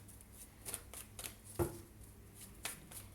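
Tarot cards shuffled by hand during a zodiac reading, giving faint, quiet riffling and soft card slaps with a few sharper taps, alone with no talking.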